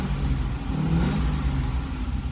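A V8-swapped Mazda Miata idles with its exhaust in quiet mode, giving a steady low rumble that stays close and even throughout, with no talking.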